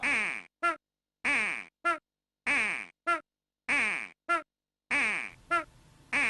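Losing sound from the PaRappa the Rapper video game: a loud, repeating duck-like quacking, with four pairs of squawks (a long one, then a short one) at a steady rhythm, plus a fifth at the end, with no talk.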